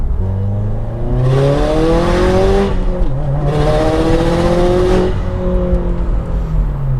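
A modified 2015 Subaru WRX STI with full bolt-ons and a custom dyno tune accelerates hard, its engine pitch climbing through two rising pulls with a brief shift gap between, loud and close.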